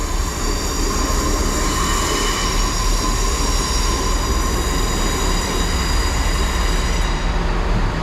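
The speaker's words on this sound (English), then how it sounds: "Also arriving is the 1255 cross-country service to Plymouth." A train pulls into Bristol Temple Meads station, with a loud, continuous close rumble of wheels and engine and a faint high squeal, no voices.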